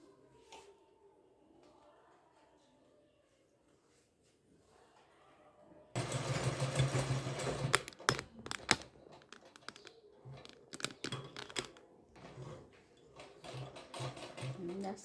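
A sewing machine stitches a stand collar, starting abruptly after a quiet opening with soft speech, then running loud and close in rapid mechanical bursts with brief pauses.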